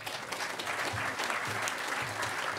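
Applause at the closing ceremony of the Hackers On Planet Earth 9 conference, sounding as a continuous wash of clapping from a large audience in a hall, heard at a moderate distance for a little under three seconds.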